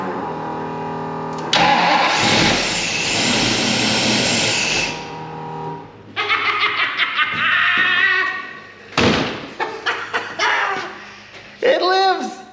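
A 1967 Ford Mustang V8 fitted with FiTech EFI cranks and fires up, its engine catching and roaring loudly near at hand, then revving in short repeated bursts with pauses between them.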